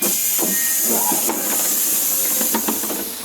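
A steam generator in the video game Fallout 76 gives off a loud, steady hiss throughout, with a few faint clanks and a voice mixed in underneath.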